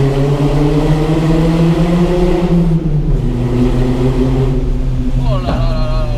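Renault Alpine Berlinette A110 1600 SX pulling hard in second gear near a tunnel, its engine note loud and close with rising harmonics, then a sharp shift and a change in pitch, with people talking briefly over it.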